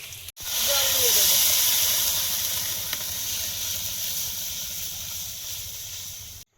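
Water poured into a hot cooking pan for a river-fish and homemade lentil-dumpling curry, bursting into a loud, sustained steaming hiss that slowly eases off over several seconds.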